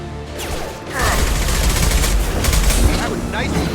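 Rifle gunfire from the sci-fi shooter game Mass Effect 2, fighting Eclipse mercenaries, hammers out in a dense, loud burst after a brief lull, with a voice briefly heard in the mix.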